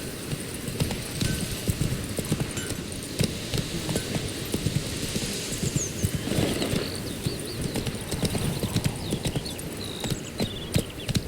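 A horse in The Witcher video game trots along with a steady, continuous clip-clop of hooves, close and even, over faint outdoor ambience.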